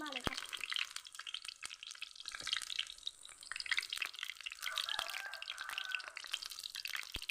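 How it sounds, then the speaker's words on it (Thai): Food frying in hot oil for a Tai Yai (Shan) dish, with a steady close sizzle, scattered sharp spatter pops and occasional stirring, someone speaking briefly over it. "น้ำมันก็กระเด็นนิดๆหน่อยๆแล้วนะ"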